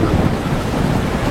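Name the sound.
loud thunderclap sound effect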